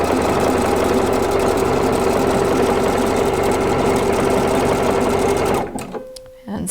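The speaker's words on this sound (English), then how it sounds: "I'm going to go ahead and stitch a little bit more." A Pfaff Creative Icon sewing machine runs steadily for over five seconds sewing a decorative satin stitch, a close, loud, even whirring hum that stops abruptly, followed by quiet handling noises.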